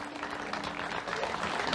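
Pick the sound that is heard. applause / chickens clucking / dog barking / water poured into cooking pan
applause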